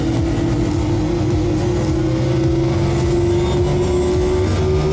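Pack of NASCAR Cup race cars roaring around Phoenix Raceway in a racing video game, a loud continuous engine drone with a steady pitched whine, no voices.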